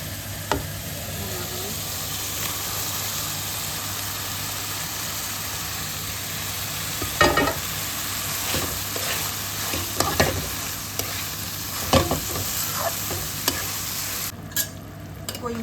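Fish in a spiced pan fries and is stirred, giving a continuous low sizzle with a steady hum underneath and occasional louder scraping clatters from the spoon, close by, with no talk.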